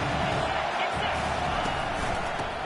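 Football stadium crowd roaring in a steady, loud wash of cheering, with a commentator's voice running over it.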